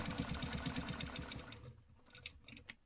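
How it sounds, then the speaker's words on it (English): A sewing machine stitches with a rapid, steady mechanical whir for about a second and a half, then stops and a few quieter clicks and handling sounds follow. "And then I'm just going to stitch the rest."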